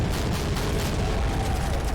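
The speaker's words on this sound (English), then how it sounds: "I'm going to continue to use this cannon and just try and slow them down a little bit." Cannon fire in the Army Men Battle Simulator video game, a dense, steady low rumble of booming shots and explosions that runs loud throughout with no clear pauses.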